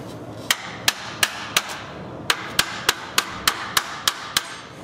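A hammer strikes the tensioner on a Ford Ranger pickup with a 4.0 engine, about a dozen sharp metallic blows in a fairly regular rhythm, loud and close, with a brief pause midway.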